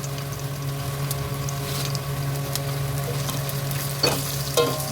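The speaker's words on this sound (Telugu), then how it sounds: "చూడండి, మా అక్క గరిచేసి అవి మాడిపోకుండా కలబడతా ఉంది." Fenugreek seeds and dried red chillies frying in a pan while being stirred, a steady sizzle over a low hum with a couple of scraping clinks near the end, close and without talk.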